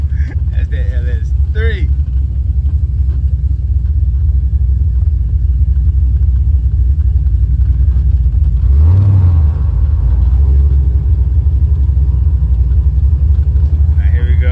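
A 1987 Monte Carlo SS Aerocoupe G-body with an LS engine swap rumbles loudly up close in a deep, steady idle. The engine swells briefly around the middle, and voices chatter over it at the start and end.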